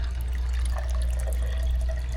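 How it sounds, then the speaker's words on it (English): Liquid strained to remove pulp and seeds trickles and drips quietly and continuously, with no talking. "I'm going to strain this to take out the pulp and the seed."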